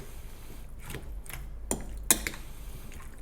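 Ingredients get mixed with oil in a bowl, giving a few sharp utensil clinks and light scrapes against the dish over a quiet background, with no voices.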